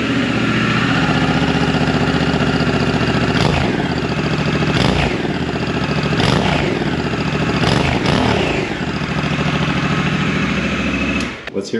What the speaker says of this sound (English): Here's the stock exhaust sound.